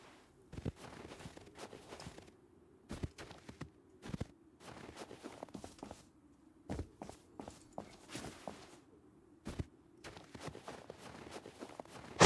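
Footsteps in the video game Rust: irregular, quick, soft steps that come in short bursts over a steady low hum, at moderate distance and fairly quiet.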